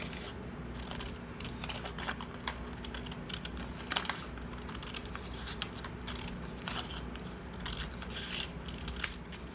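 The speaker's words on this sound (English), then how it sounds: "So I'm just going to cut like a 1/4 of an inch strip." Scissors snip through a quarter-inch strip of black cardstock with small, sharp crisp cuts scattered over a faint room hiss, close and quiet, with no talking.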